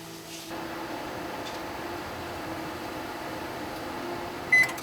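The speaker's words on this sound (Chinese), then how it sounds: "然后放在微波炉里面，开启2分钟的时间来加热" A microwave oven runs with a steady, even hum while heating quartered lemon, the drone holding at constant level with a faint click near the start and a brief beep-like blip at the end.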